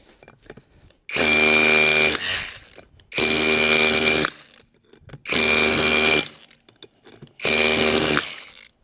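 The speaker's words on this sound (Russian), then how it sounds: "будем пробовать долбить. Значит, у нас установлен режим отбойника, долбления" A Heimerdinger LB305 rotary hammer chisels in hammer mode, four loud, close bursts of rapid hammering, each about a second long, separated by short pauses.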